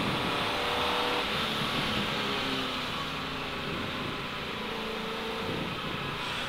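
A 1973 Ford Mustang Mach 1 accelerating around a race track, its engine a steady, loud broadband roar heard from on board with rising tonal lines, continuous for several seconds with no talk.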